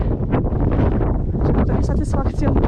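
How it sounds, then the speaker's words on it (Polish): Strong gusty wind buffeting the microphone on a low mountain summit during a hike, a loud continuous roar and rumble with a voice exclaiming over it. "tak wieje z tej góry."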